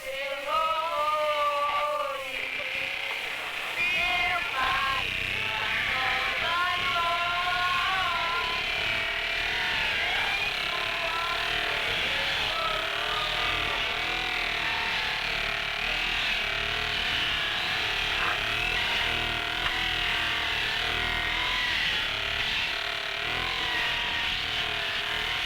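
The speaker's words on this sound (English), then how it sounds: "The scraping wheel, which is attached to the bench and turned by the belt, grinds the mandioca" A belt-driven scraping wheel mounted on a bench grinds peeled mandioca roots into paste in a flour mill house, giving a steady, continuous mechanical whine with a wavering pitch that holds unbroken for the whole stretch, with no talk.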